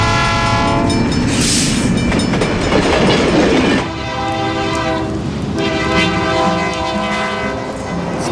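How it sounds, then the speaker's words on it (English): A train rumbles past close by with a loud horn blast, metallic rolling and shifting tones as the cars go by, no talking. "we weren't expecting the train here"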